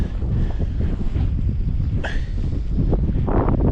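Wind buffets the microphone outdoors beside a river in Sutherland, Scotland, a steady low rumble that gusts and eases over a few seconds, with a faint brief higher call partway through.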